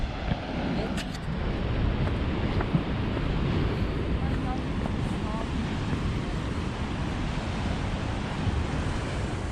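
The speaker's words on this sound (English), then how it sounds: "just be mesmerized by the sea. Hypnotic. Yeah, with all these waves" Sea waves on a rocky shore along the Hermanus cliffs, a continuous roaring wash mixed with wind buffeting the microphone, loud and steady without clear individual breaks.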